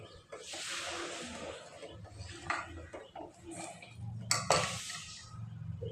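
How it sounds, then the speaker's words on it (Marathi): Rice being stirred in a cooking pot, with scraping, soft clinks of utensil against metal and a hissing simmer, irregular and close, including a sharper knock near the end. "थोडं चांगलं ढवळायचं कारण खाली लागायची भीती तांदूळ भीती असते"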